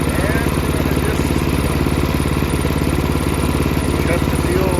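A snow blower's small engine idles outdoors in a close, steady, rapid chugging rumble that holds even and loud throughout.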